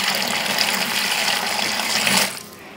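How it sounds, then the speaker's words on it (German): Water gushing steadily into a paludarium being refilled, a loud continuous rushing pour that holds for over two seconds before cutting off, with no voices. "Deshalb füllen wir hier Wasser nach."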